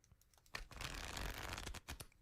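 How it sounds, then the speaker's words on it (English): Playing cards are shuffled in one quick riffle, with a few soft taps before and after a dense, crisp fluttering burst lasting about a second, heard close and alone. "It was cards being shuffled."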